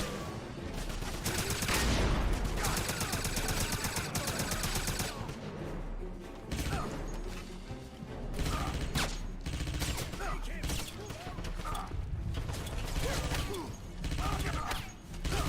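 Gunfire in the 2009 Xbox 360 game Wolfenstein, with sustained automatic bursts and rapid shots. Mechanical clatter and crashes mix in, and a player's voice is heard at times under the continuous loud firefight.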